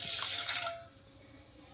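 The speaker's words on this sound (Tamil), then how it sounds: "தேவையான அளவு வாட்டர் ஊற்றிக்கோங்க," Water pours from a tap into a cooking pan on the stove as jelly is being made, a close steady splashing rush that cuts off partway and leaves a thin trickle fading out.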